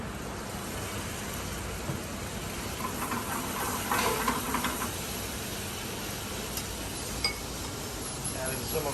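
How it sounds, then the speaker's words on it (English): White wine hisses into a hot pan where flounder has been seared, a steady broad sizzle with a few utensil clinks as a person talks over it. "Deglaze us with a little bit of white wine."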